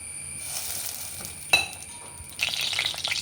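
Oil sizzles in a pan as tempering begins for a senna tora leaf sambar. A metallic clink comes first, then a steady close frying hiss takes over near the end.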